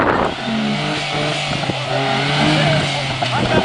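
A jeep stuck on a rural track revs its engine while the wheels spin, a loud rising and falling roar with some scraping, and people talk over it nearby.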